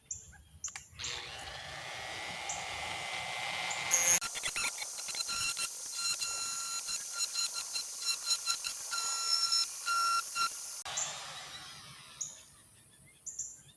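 A die grinder whines at high pitch as it carves a walnut tobacco pipe, starting up after brief spin-ups and grinding steadily with fluctuating bursts as the bit bites into the wood, then winding down.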